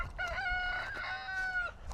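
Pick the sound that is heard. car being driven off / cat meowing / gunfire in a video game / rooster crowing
rooster crowing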